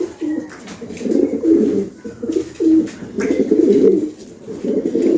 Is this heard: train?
no